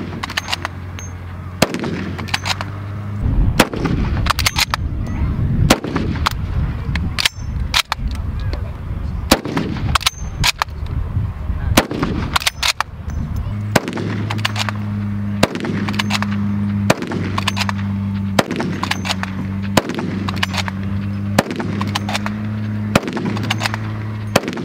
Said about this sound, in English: So, this is a 303 a rifle, I do believe, this one. This is a bolt action rifle.